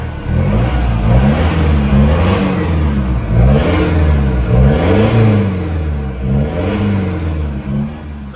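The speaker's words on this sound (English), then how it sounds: "and give it a bit of rev." Repeated rev blips from an Isuzu 4JJ3 diesel engine through a 4-inch DPF-back stainless steel diff dump exhaust, rising and falling in a steady cycle. The sound is a loud, close, throaty drone with no talking over it.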